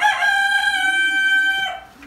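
An Affligem rooster from 2017 crows once, loud and close, a long harmonic call that holds steady before dropping off at the end, with no talk over it.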